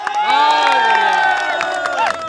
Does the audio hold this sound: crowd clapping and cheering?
yes